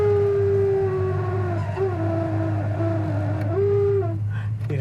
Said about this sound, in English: Heater fan makes a little growl to it.